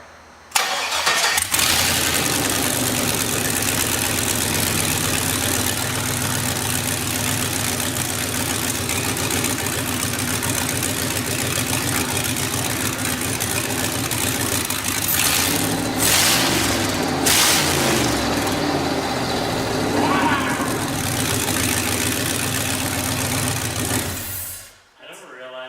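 A turbocharged LS-powered Miata kart engine with a new fuel pump cranks and catches, then settles into a steady, loud idle that runs for a long stretch before cutting off abruptly, with people talking over it.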